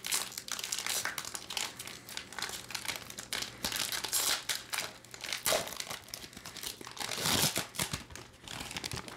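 Absolute Football 2022 trading card packs being unwrapped, with close, continuous crinkling and crumpling of foil wrappers and occasional sharper tearing bursts throughout.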